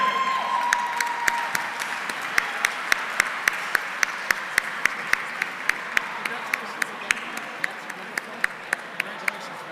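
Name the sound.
audience applause for State Senator Tim Kennedy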